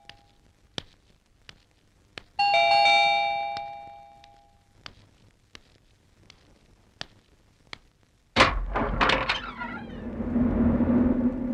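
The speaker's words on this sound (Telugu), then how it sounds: "కాలింగ్ బెల్ల." A doorbell rings with one loud clanging ding-chime that fades over about two seconds, among scattered ticks, followed later by a burst of louder, rougher ringing and clatter.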